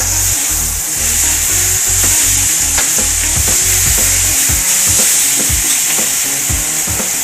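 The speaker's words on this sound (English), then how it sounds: "So what this is doing, this is pre-cooking your ribs." Pork ribs sizzle and crackle loudly on a BBQ grill, a dense, steady frying hiss with scattered sharp pops and occasional scraping taps, heard up close.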